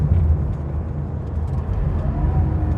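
Engine of a Porsche 911E driving while downshifting from fourth to second gear, a loud continuous low rumble with a slight rise in pitch toward the end.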